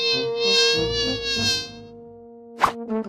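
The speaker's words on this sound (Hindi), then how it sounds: "ओह, यह क्या है? मक्खी कहाँ से आई? मुझे उसे पकड़ना होगा।" A housefly buzzes indoors in a steady, droning hum that wavers and fades, followed by a brief sharp sound near the end.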